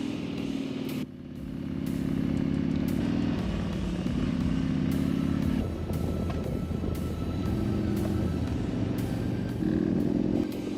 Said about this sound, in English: One great thing about a Harley and having that big V-twin motor is just torque for days, and it just pulls you all the way up the hill